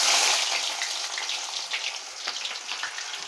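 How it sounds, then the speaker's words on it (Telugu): Sliced onions hit hot oil with popped mustard seeds in a village kitchen, a loud hissing sizzle that crackles and spatters steadily, with no voices. "ఆవాలు పగిలిపోయినాయి కాబట్టి ఇప్పుడు ఎరగడ్డలు వేసుకునేస్తాం."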